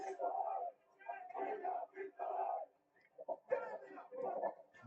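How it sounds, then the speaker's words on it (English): An angry crowd of protesters in Sydney's western suburbs shouts in bursts, with several voices yelling over one another in loud, ragged waves and brief gaps between them. "an angry crowd vents its fury"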